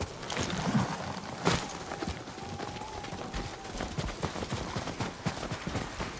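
Horses' hooves clip-clop at a steady walking pace in Ghost of Tsushima, a continuous close rhythm of soft hoof strikes over ambient outdoor noise, with no talking.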